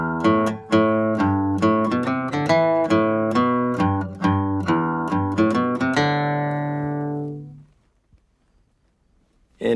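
Guitar picking the bluegrass fiddle tune Cold Frosty Morning in a lower-pitched arrangement, a quick run of single notes ending on a sustained chord that rings out and fades to silence.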